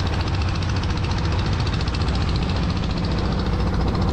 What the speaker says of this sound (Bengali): তো ট্রলার নিয়ে যখন পদ্মার মাঝখানে গেলাম আস্তে আস্তে